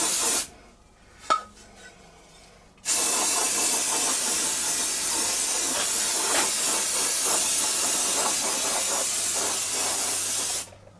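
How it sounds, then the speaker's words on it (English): An aerosol can sprays mold release onto a casting flask: one short hiss, then a long steady spray of about eight seconds, loud and close. "now we're going to take and coat our flask with some mold release to keep the silicone from sticking to it"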